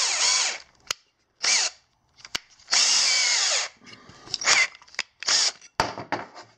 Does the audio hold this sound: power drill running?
yes